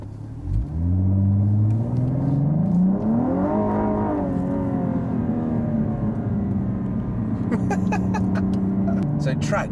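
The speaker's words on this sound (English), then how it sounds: "The acceleration of this car is about to be tested." A Cadillac ATS-V engine revs hard and climbs steadily in pitch as it accelerates, loud and close, then settles into a steady roar.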